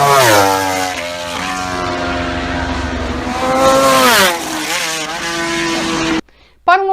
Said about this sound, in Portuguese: o som percebido muda conforme o carro se aproxima e se afasta dele